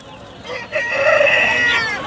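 A rooster crows loudly nearby at a livestock market, one long rising and falling call over a background of farmyard noise.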